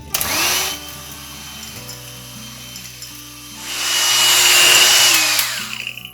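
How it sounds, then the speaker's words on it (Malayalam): An electric mixer beats whipping cream at high speed for a tiramisu pudding: a close, loud motor whine that rises in pitch, drops back, then swells into a long, bright, roaring surge before winding down. "നമുക്ക് ഹൈ സ്പീഡിൽ ഒരു 4 മിനിറ്റ്സ് നന്നായി ബീറ്റ് ചെയ്യാം"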